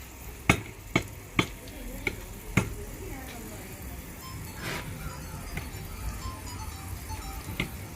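Chicken pieces fry in hot oil and ghee with a steady, soft sizzle, opened by a few sharp metallic clinks of a utensil against the pan.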